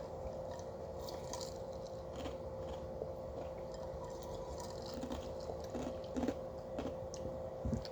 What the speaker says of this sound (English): Ice crunching. It's bad, but I like ice crunching.